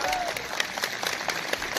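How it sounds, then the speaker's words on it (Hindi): A crowd at a rally of government employees' unions claps vigorously in a brief, dense burst, with voices mixed into the applause. "इनके लिए जोरदार तालियां बजाएं।"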